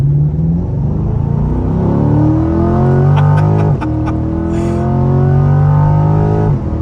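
A Chevrolet C8 Corvette engine held in first gear, revving up and down in rising and falling sweeps with a deep, steady rumble, loud and close from inside the car, with no talk.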